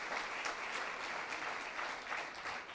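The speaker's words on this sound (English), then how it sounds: "I think they deserve applause." Audience applause fills the room with steady, dense clapping from many hands, loud and unbroken throughout.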